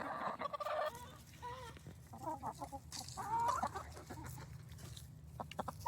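Hens, including some younger ones, cluck and murmur around a treat-dispensing enrichment toy, with soft varied calls and a few sharper squawks close by at moderate volume, no voices.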